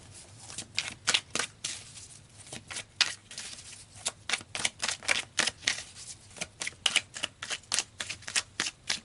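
Tarot cards being shuffled and drawn in a series of crisp, rapid riffling bursts and flicks, close and fairly quiet, with no talking.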